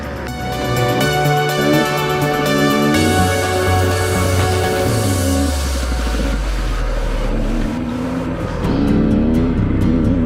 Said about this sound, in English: One must always be alert to oncoming traffic.